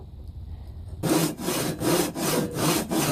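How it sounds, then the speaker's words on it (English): A handsaw cutting wood for a bridle joint, starting after a second of quiet with about five steady back-and-forth strokes, close and rasping. "for something that's this width, sawing is probably going to be what you're going to go with."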